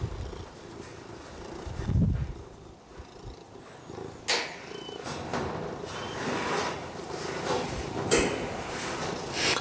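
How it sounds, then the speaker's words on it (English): A pet cat named Whiskers purring close by, a soft steady rumble with faint clicks and small handling knocks around it, no voices. "That's one happy cat."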